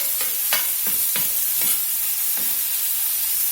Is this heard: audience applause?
no